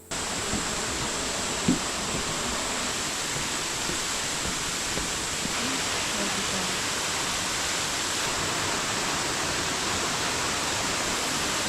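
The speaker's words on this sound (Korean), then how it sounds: "물소리가 시원하게 들리는데요." Bidulginang waterfall in Pocheon, South Korea, swollen after rain, roars in a dense, steady rush of falling water, constant and loud with no pauses.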